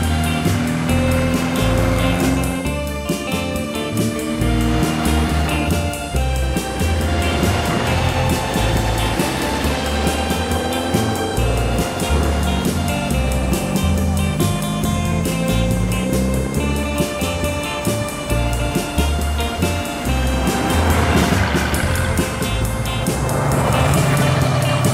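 A 1953 Renault classic car with a powerful engine runs steadily, its loud continuous rumble filling the whole stretch without pause and no talk over it.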